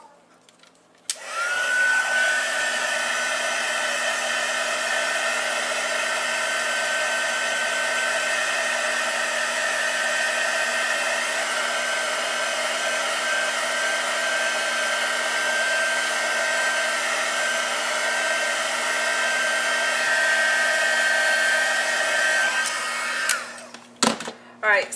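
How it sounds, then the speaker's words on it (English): A heat tool blows on watercolor ink in a steady, loud whirring roar that starts abruptly and runs unbroken for over twenty seconds before switching off with a few clicks. "now I'm going to hit it again with my heat tool."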